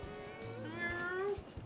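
A cartoonish cat meows once in Super Mario 3D World, a bright rising and falling mew heard up close over soft game music.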